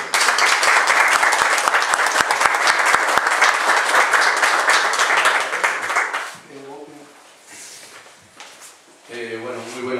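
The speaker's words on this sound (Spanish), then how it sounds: "¡Fuerte los aplausos!" Dense applause from an audience at a municipal agreement-signing ceremony fills the first six seconds, loud and steady, then fades out while a voice carries on over a faint murmur.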